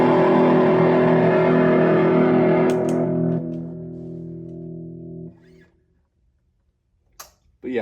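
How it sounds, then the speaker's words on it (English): A heavily distorted chord on a late-1970s Gibson The Paul electric guitar, played through the bridge pickup, rings out loud, then decays in stages to silence, followed by a couple of faint clicks. "with the bridge pickup, if you throw in some distortion,"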